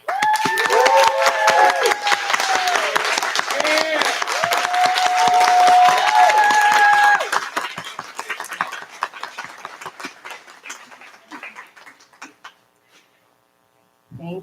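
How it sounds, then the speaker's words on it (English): Graduates and guests at a treatment center college commencement ceremony applaud, a loud, dense round of clapping with a steady tonal hum running beneath it that thins into scattered claps and fades to silence before a final burst. "Please stand and clap for yourselves as we all do the same"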